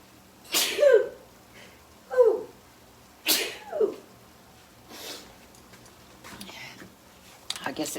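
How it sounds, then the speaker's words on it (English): Several sneezes in a home kitchen, set off by pepper during cooking, come as three close, sharp bursts spaced about a second and a half apart, each with a quick intake before it. Quieter noises follow. "Excuse me, I got to sneeze."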